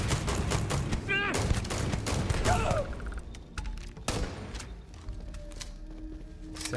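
Bursts of automatic gunfire in the video game Starfield, dense rapid volleys for the first few seconds, then scattered single shots and thuds over game ambience, with a voice briefly heard.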